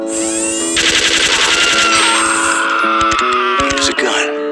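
Rapid gunfire from a video game parody, with a heavy-caliber, tripod-mounted gun rattling in bursts and shifting pitch, loud and dense across the clip with no clear speech.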